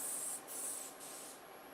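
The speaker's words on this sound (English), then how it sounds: "I'm just gonna give this a spray. This is just some pan release Crisco" A can of Crisco pan release is sprayed into a baking pan over a sink: two or three short, close, hissing bursts with brief pauses between them, in a quiet kitchen.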